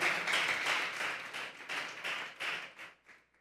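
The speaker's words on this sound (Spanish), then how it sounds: "Fuerte ese aplauso." A church congregation claps together in quick, rhythmic bursts, fairly faint and roomy, with the beats fading out toward the end.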